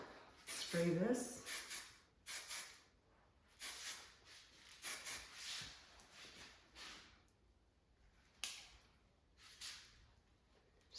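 Hairspray is sprayed onto a spiky haircut in a run of short, close hissing bursts with uneven gaps between them.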